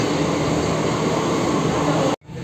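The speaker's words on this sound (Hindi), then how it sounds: "और आ गई है स्टेशन मेट्रो" A loud, steady rumble and whine of a Delhi Metro train rolling into a station, filling the space, then cutting off abruptly near the end.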